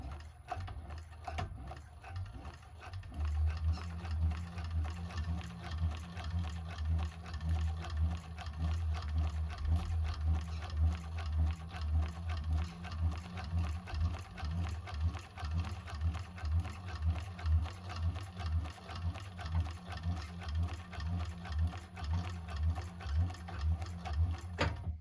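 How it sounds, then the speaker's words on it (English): A 1341 cylinder arm sewing machine runs steadily while top stitching a bag, a close, even mechanical whirr with rapid rhythmic needle clatter lasting throughout, briefly starting and pausing at the beginning. "I'm going to change it to top stitching."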